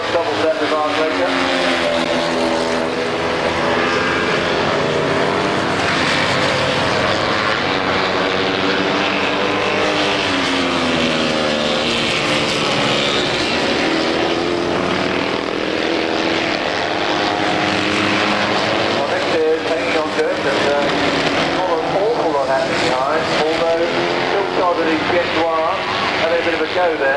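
Two big Laverda 750 motorcycles race at Brands Hatch, a continuous loud engine roar rising and falling as they pass, with crowd and ambient noise throughout.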